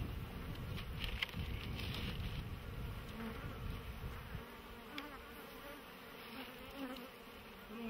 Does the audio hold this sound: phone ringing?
no